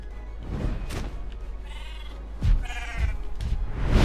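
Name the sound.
sheep bleating in How to Train Your Dragon video game DLC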